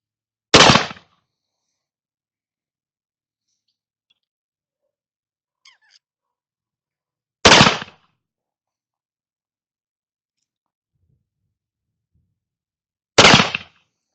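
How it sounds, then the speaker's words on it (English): Three sharp, loud gunshots from a Colt Pocket Police pistol ring out alone at 15 yards, spaced several seconds apart with silence between. "let's try a few offhand with this particular gun, and we'll try our point of aim"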